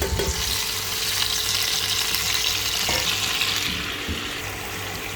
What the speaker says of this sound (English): Right now I am cooking them on medium flame until they have a crust outside.